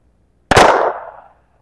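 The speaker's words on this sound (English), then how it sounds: "First up, we got Kel-Tec 22 long rifle." A single sharp gunshot from a Kel-Tec .22 Long Rifle rings out close and loud against near silence, then decays quickly over about a second.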